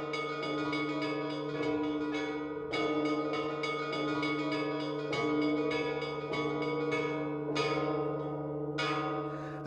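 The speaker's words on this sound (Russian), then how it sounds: "торжественно плывет звон православных колоколов" Several Orthodox church bells ring together in a sustained, resonant peal in Mongolia, strikes recurring every couple of seconds and their long tones overlapping.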